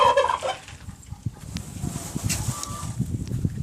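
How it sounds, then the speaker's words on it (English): Turkeys gobbling outdoors while being given water, a dense run of rapid, rattling gobbles that builds after a brief opening and continues loudly and close to the end. "out here with the turkeys, giving them some water."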